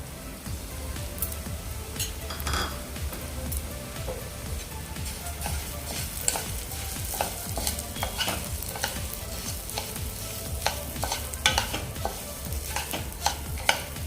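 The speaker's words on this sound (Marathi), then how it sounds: "आता याच तुपामध्ये हा लापशी रवा मी भाजून घेते" Lapshi rava (broken wheat) roasts in ghee left over from frying peanuts, giving a steady close sizzle with frequent scraping stir strokes throughout and no talking.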